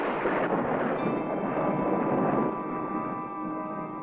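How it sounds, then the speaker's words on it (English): Thunder from an approaching storm rolls in a remote desert rock-breaking camp as a continuous loud, deep rumble, steady for several seconds and slowly fading, with no voices. "Storm coming."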